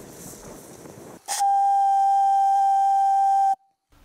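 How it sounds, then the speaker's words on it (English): A single loud, steady human whistle, used as a signal between people, holds one pure pitch for about two seconds, then cuts off, following a stretch of quiet outdoor rustle in Kahuzi-Biega National Park. "Whistling, the two teams locate each other"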